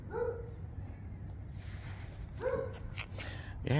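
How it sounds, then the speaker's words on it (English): A dog barks from the far side of a house during a suburban walk, two short distant yelps about two seconds apart, faint against quiet outdoor background. "it's a dog on the other side of the house"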